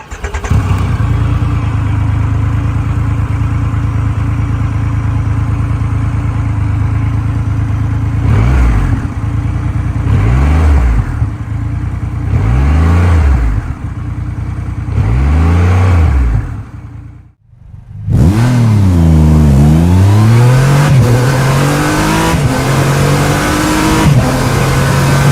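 A Triumph Rocket 3 motorcycle engine idles loudly with a deep, steady rumble, then gives several sharp throttle blips, cuts out briefly near the end, and returns with rising and falling revs, close and alone with no talk.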